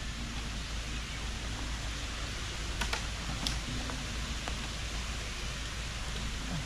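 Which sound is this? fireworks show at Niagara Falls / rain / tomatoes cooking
rain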